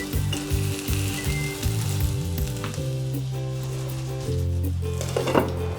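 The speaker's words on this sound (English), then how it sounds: "So the lauki has been cooking for about 3 to 4 minutes" Bottle gourd (lauki) cooking in a pan gives off a steady, close sizzle throughout, with background music playing over it.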